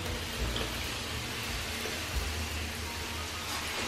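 Water sprayed over houseplant leaves gives a steady, close hiss like light rain, continuous throughout with no voices.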